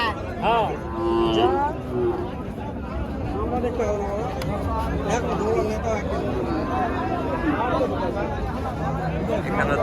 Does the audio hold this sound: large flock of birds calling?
no